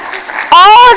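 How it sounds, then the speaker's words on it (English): Brief patter of clapping from a small group, cut off halfway by a loud, close voice calling out over it. "she needs a huge round of applause"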